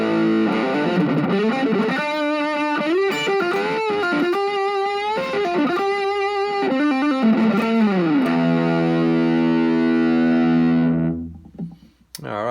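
Electric guitar played through a Boss MD-2 Mega Distortion pedal on cheap equipment, with sustained heavily distorted chords and single notes changing in steps, then ringing out and fading near the end, no talk.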